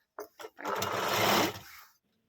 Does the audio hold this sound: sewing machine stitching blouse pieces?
yes